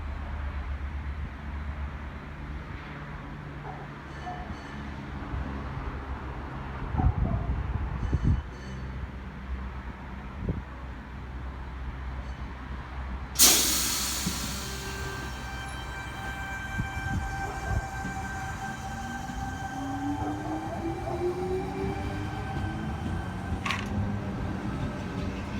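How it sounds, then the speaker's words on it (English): An empty Sydney Trains passenger train moves through a station at night, with a steady low rumble of wheels and motors, a sudden loud burst partway through, then rising whine and hum as it rolls on. "Alright, so this is now an empty train."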